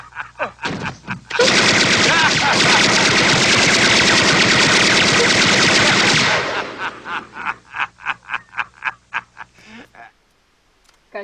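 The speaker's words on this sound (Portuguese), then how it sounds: "E eu cobrindo esse tiroteio, viu?" Gunfire erupts in an Arma 3 shootout, several seconds of loud sustained automatic bursts followed by a rapid string of separate single shots that thin out toward the end.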